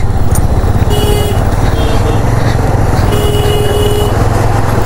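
Motorcycle ridden over a rough off-road track near Keonjhar, its engine droning loud and steady throughout with constant road and wind noise, plus a brief tonal horn-like whine.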